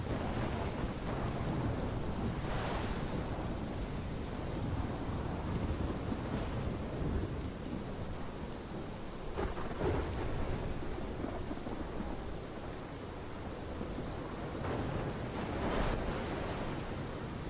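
A thunderstorm in the Life is Strange video game: steady heavy rain hissing throughout, with several deep rolls of thunder swelling and fading over the downpour, no voices.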